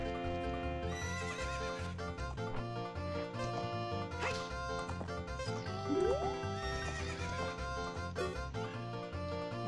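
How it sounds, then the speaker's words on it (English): Epona the horse from the video game Zelda Ocarina of Time whinnies and clip-clops at a gallop over looping game music, with a clear neigh in the middle and steady hoofbeats, and no one speaking. "Let's go ride a horse again."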